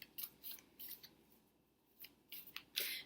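Affirmation cards are handled and shuffled, giving soft papery swishes and flicks in uneven bursts, close and quiet, with no talking.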